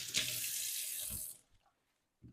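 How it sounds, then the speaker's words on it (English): Tap water runs steadily into a sink as hands are washed beneath it, a broad hiss lasting over a second before cutting off, followed by a few small drips and handling sounds. "I'm just gonna wash my hands quick."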